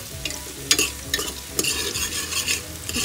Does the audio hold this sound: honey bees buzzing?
no